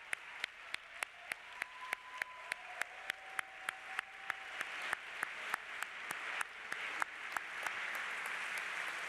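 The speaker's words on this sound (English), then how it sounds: "Can I get a round of applause?" Audience applause at a 2016 benefit gala, starting as scattered, distinct hand claps and quickly thickening into steady, dense clapping from a large crowd that carries on to the end.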